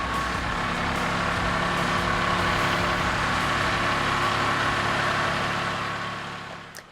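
A tractor engine running in a tight residential backyard during demolition work, a steady low rumbling idle held at constant loudness before fading out at the end.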